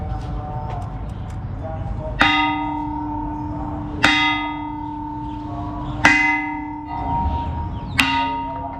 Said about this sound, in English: Got to ring the bell, haven't we?